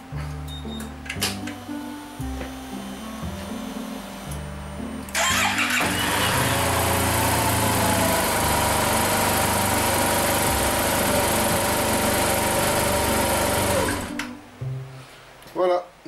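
A 2021 Yamaha T-MAX 560 scooter cranks briefly, then fires up and idles with a steady, close mechanical hum for several seconds before shutting off, after quiet workshop sounds.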